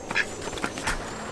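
A duck gives a few short, raspy quacks and squawks while being chased and grabbed, close by, with scuffling and rustling around them.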